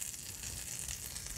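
Onions hit a hot frying pan with a soft, steady hiss and crackle, faint and close, lasting only a moment with no voices over it.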